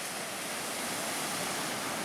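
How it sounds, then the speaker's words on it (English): Ocean surf rolls onto the beach at Assateague Island as a broad, continuous hiss of breaking water, steady and moderately distant, with no voices. "And wow, is this ocean beautiful."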